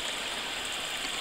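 A mountain stream, a tributary of the Little River on the North and South Twin trail in New Hampshire, flows beneath a small footbridge crossing, giving a brief, steady rushing hiss at moderate volume.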